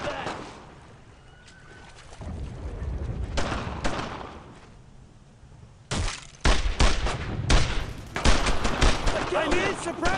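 Suppressing gunfire from a World War II firefight in Brothers in Arms, with bursts of rifle and machine gun shots growing denser and louder toward the end, mixed with battlefield rumble.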